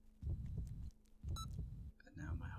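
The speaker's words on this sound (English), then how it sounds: "And now my heartbeat is fading rapidly." A heartbeat thumps in slow, heavy pulses in the horror video game STASIS, its deep throbbing groups repeating under a low hum with brief higher electronic tones between them.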